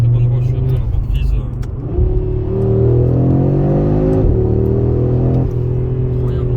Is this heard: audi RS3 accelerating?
yes